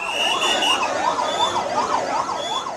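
An ambulance siren wails, rising and falling in steady repeated sweeps, loud and close, with a higher steady tone above and traffic rumble beneath, arriving at a burn hospital after a plane crash.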